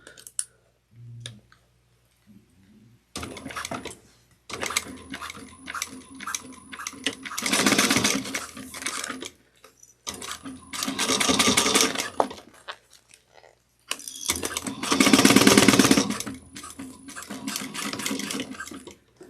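Sewing machine stitching a quarter-inch seam down the side of a clear vinyl bag, running in several bursts of steady rapid stitching separated by pauses and small clicks, fairly close.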